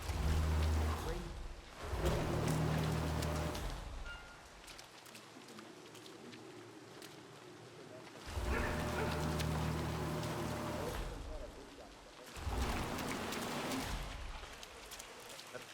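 Steady rain pours down in a Hitman 3 game scene, a dense continuous wash of drops that swells louder in waves, with low rumbling surges and a voice speaking over it at times.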